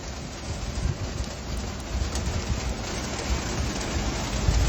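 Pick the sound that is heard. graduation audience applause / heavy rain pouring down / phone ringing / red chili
heavy rain pouring down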